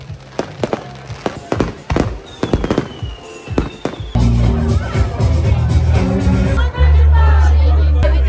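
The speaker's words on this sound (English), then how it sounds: "We're on our way out for a firework display." An outdoor firework display sends out a rapid series of sharp bangs and crackling pops, some close and loud, with crowd chatter around them and a steady musical drone joining partway through.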